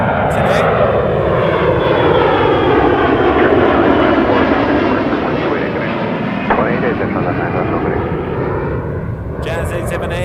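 A Jazz Embraer 175 jet airliner at Toronto Pearson roars loudly and close with a rising, shifting engine whine, while brief clicks or bursts of noise appear near the start and end.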